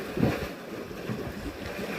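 Easterly wind buffeting across a coastal fishing headland at Aberdaron, North Wales, a low, rumbling gusty roar close on the microphone that swells and eases over two seconds, with no voices.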